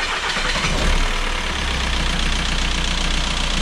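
A Volkswagen 1.9 TDI diesel engine cranks and catches right away, then settles into a steady, loud idle with a fine knocking pulse close by. No one speaks.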